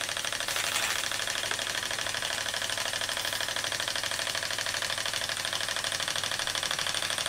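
A Marklin donkey engine runs close by with a fast, even, mechanical knocking rhythm that continues without a break.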